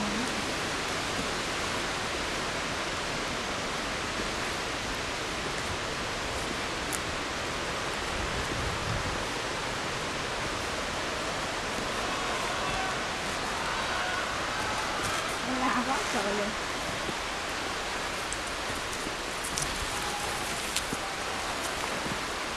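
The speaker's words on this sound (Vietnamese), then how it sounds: "Ra đây mưa lại." Steady rain falls on a forest creek trail near Girdwood, Alaska, a dense, continuous hiss of drops on leaves and ground through the whole stretch, with occasional faint voices beneath it.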